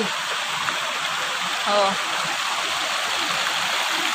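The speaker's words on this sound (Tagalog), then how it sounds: "Ang mga tubig." A mountain stream rushes steadily over rocks in the rain on a hiking trail, a loud broadband wash throughout, with a brief voiced exclamation near the middle.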